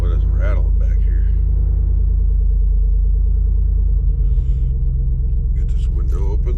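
A truck engine used for camping rumbles with a deep, steady low drone close by, settling into a slightly different idle partway through, with a few faint outside noises.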